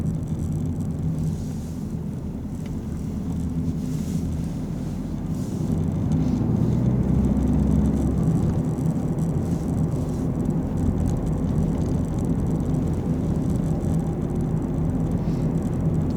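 A car drives down a road during a driving lesson mock test. A steady low engine and road rumble fills the cabin, swelling slightly midway, with no talking.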